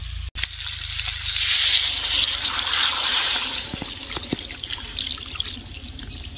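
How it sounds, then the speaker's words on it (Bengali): Water poured into a pan of chicken and potato curry, a close, continuous splashing pour that settles into trickles and drips. "তো এবার আমি জল দিয়ে দেব"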